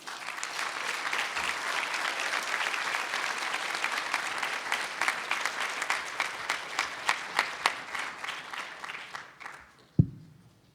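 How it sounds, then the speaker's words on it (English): Audience applause at the Bellingham Regional Chamber of Commerce annual awards dinner: a room full of people clapping steadily for about ten seconds, thinning into a few claps before a sharp thump as it ends. "Round of applause again for Ken Gass"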